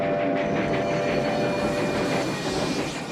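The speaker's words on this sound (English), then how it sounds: "He Smashed the camera with the train?" A train rolls along railroad tracks in a film scene, giving a steady, loud, continuous rumble with a clattering, hissing texture throughout.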